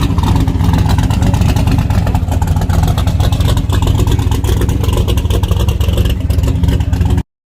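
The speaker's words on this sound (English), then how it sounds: "Okay, truck sounding good." A truck engine roars and revs hard at a race track, loud and close. The dense, unbroken mechanical noise stays steady for the whole stretch and then cuts off abruptly.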